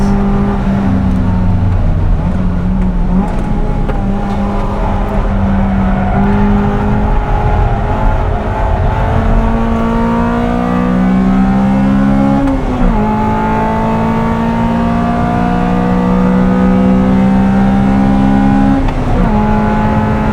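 A Honda Civic Type R EK9 engine at the Nürburgring revs hard and climbs repeatedly, holding steady at a high pitch near the rev limiter, with brief drops before rising again.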